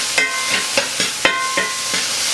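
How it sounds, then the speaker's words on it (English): Meat and onions with soy sauce are stir-fried in a pan, a steady sizzle under rhythmic metallic scrapes and taps of a utensil, about six strokes in quick succession, close and fairly loud, with no talking. "We'll stir fry that up good."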